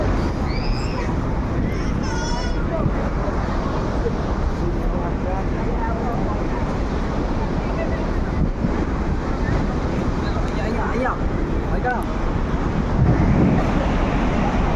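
Loud, constant roaring rush of spraying water and wind buffeting the microphone at Niagara Falls, with voices faintly audible beneath the noise.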